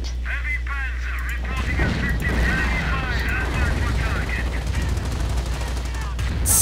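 Rifle gunfire in a World War II-style strategy game battle with heavy panzers: dense, continuous volleys of shots and rumbling explosions layered under engine drone, with a voice talking over the din.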